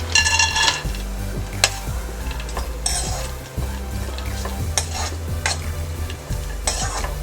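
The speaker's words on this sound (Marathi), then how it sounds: "ड्रायफ्रुट्स फ्राय करून घ्यायचे आहेत" Dry fruits fry in hot ghee in a pan for kheer, a steady sizzle broken by repeated scrapes and clinks of a spoon stirring against the pan, close and without any talk.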